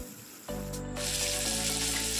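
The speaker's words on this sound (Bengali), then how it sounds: "গোটা গরম মশলা, তেজপাতা, একটু চিনি ফোড়ন দিয়ে পেঁয়াজগুলো দেব" Sliced onions hit hot oil already holding whole garam masala, bay leaf and a pinch of sugar. A sudden burst of loud, steady sizzling rises and keeps going close by, with no talking.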